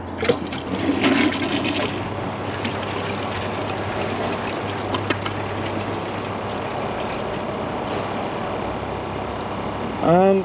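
A Kohler Cimarron toilet flushing, a rush of draining water near the start that settles into a steady trickle and hiss of refilling, ending with a brief gurgle.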